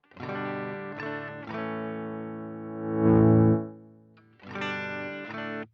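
Harley Benton DIY kit electric guitar played through effects with its volume knob rolled down, giving sustained distorted chords with shimmering chorus; a quieter wash swells in the middle before loud strummed chords return, with no talking.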